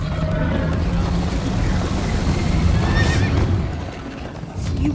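Horse neighing in the Minecraft Story Mode video game, a drawn-out whinny over a busy, continuous game soundscape with galloping and rushing ambience underneath.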